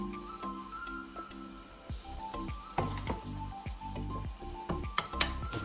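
Sizzling meat in a pan for achar gosht as a spoonful of yogurt goes in, with steady frying crackle, soft squishy stirring and a few utensil clinks against the pan, close and moderately loud.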